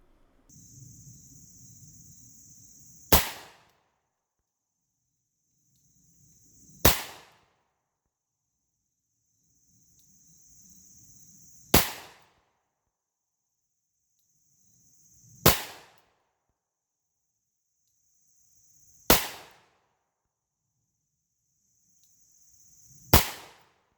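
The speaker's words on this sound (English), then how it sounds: "I'm shooting single action, plus I'm only 15 feet away." Six sharp 2020 Colt Python revolver shots fired single action at close range, each a loud isolated crack with a short decay, spaced roughly three to four seconds apart with quiet gaps between.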